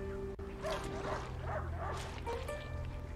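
A dog in the video game A Plague Tale: Innocence gives a run of yipping barks and whimpers, moderately near, over a low steady game background hum.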